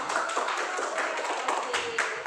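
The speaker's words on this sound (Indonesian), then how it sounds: "kasih tepuk tangan dulu" An audience claps together in a brisk, continuous patter with a few sharper individual claps standing out, moderately close and fairly even in loudness.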